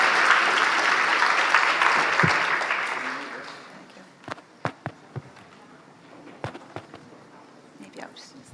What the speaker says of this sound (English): I want to give you a great big round of applause, please, to Denise